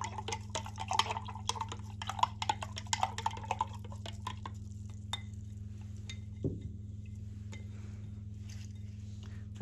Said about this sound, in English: Now I'm going to rinse out my brush.